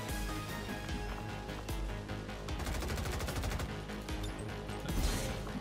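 Sustained suppressive gunfire in XCOM 2: loud, continuous automatic bursts with sharp repeated reports and a heavy crash near the end.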